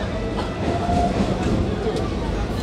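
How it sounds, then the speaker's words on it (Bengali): A train pulls into Namkhana station in West Bengal on the Sealdah line, its rumbling wheels and rail clatter steady and close, with voices talking faintly underneath. "একদম সঠিক সময় আমাদের ট্রেনটা চলে এসছে।"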